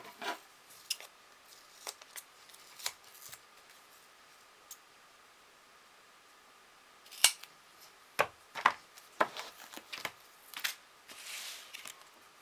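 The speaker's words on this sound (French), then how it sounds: "Et je vais couper le surplus et ma colle" Scissors trim excess card paper while making a magnetic card, giving sharp, faint snips and rasping cuts. A few scattered clicks come first, then a quicker run of close snips near the end, with no talk.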